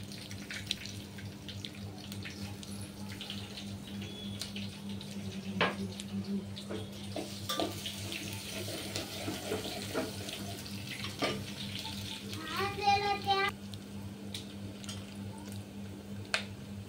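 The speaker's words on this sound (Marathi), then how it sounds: "आता पाणी टाकलेले आहे" Water runs into a pot of vegetable biryani in a home kitchen, a steady, faint splashing flow with a few small clinks and a brief gurgle near the end.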